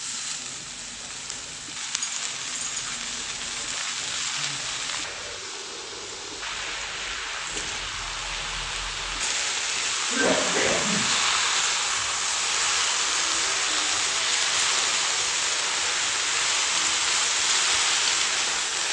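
Palanga greens go into a pan of frying onion, potato and eggplant, a steady bright sizzle with scraping stirs and a brief clatter midway, the hiss growing louder and fuller as the leaves hit the hot oil.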